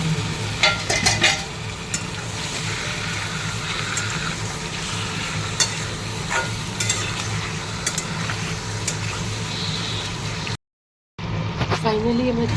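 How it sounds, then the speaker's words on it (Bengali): Chicken pieces fry with browned onions, cinnamon and cloves in a pan, a steady close sizzle broken by repeated scraping stirs of a utensil, continuing until a brief dropout near the end. "একটু ভেজে চিকেনগুলো দিয়ে দিই।"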